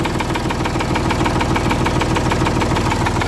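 A small engine on a Boxer machine runs steadily after starting, its loud, even low chugging filling the clip without talk.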